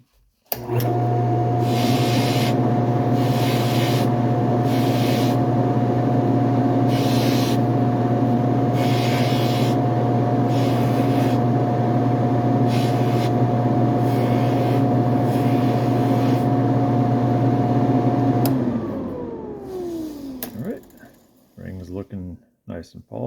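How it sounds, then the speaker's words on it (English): A split shank ring pressed against a spinning jewelry polishing wheel, a loud steady motor whine and buffing hiss with rhythmic pulses that spins down and stops near the end. "always polish with the prongs facing towards the direction of spin, so that when it's spinning around, it's not going to catch a prong"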